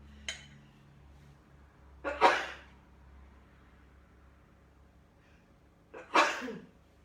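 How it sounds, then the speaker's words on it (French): Two sharp sneezes about four seconds apart, each a sudden close burst, with a faint breath beforehand and quiet room hum in between. "je vais éternuer"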